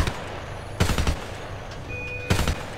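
Gunfire from the video game Homefront comes in two short automatic bursts of rapid shots, separated by a quieter stretch of ambient game noise.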